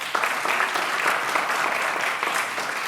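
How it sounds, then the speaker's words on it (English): An audience at a reparations panel breaks into steady, dense applause, many hands clapping together close by for a few seconds. "Really give them a round of applause."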